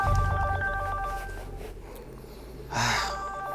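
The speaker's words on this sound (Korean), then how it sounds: "핸드폰 벨소리가 요란하게 울리는 겁니다." A mobile phone ringtone rings in a quiet room at night, a tonal electronic melody repeating at the start before fading under a low hum, with a gasp-like breath later.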